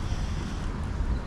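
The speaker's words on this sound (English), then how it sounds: "bit of a windy day today, a windy start" Steady wind buffets the microphone at a skate park, a continuous low rumbling roar with no talking.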